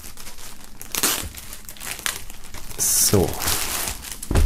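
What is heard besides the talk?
unwrapping items sealed in plastic foil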